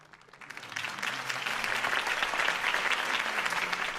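Crowd applause after a campaign speech in the Batman Telltale game, swelling quickly into steady, dense clapping that holds at a moderate level.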